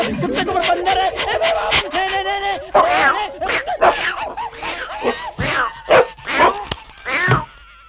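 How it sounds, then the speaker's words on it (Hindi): A dog in a Hindi action film scene lets out a rapid string of loud, close yelps, yips and barks mixed with excited voices. "अरे बाप रे कुत्ता।"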